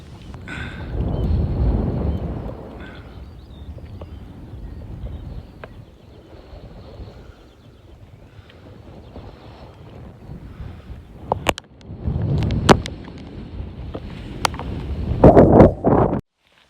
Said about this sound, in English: Right, this will be a windy one.